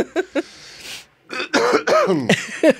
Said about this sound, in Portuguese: Estamos todo mundo tossindo aqui.